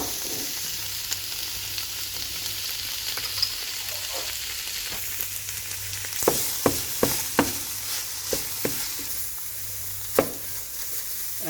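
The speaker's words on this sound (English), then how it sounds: "Make sure we cook the tomato paste for like 5 minutes," Tomato paste fries in a pan for a Bolognese sauce with a steady sizzling hiss, and then a run of sharp utensil knocks and scrapes as it is stirred, with no voices.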